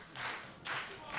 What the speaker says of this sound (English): now we start to see frustration setting in for Isaac Taylor as this crowd tries to rally Sebastian Valentino